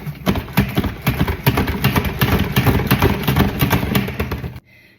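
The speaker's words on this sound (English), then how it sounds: "Spin dry your arugula after cleaning the leaves." A salad spinner spin-dries freshly washed arugula with a rapid, rhythmic whirring rattle that runs steadily for several seconds, then stops abruptly.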